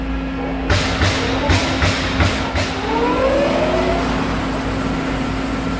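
A 2005 Hwacheon HITECH 400 CNC lathe runs at 500 RPM in high gear, giving a steady mechanical hum with a quick run of rhythmic clunks early on and a faint rising whine later.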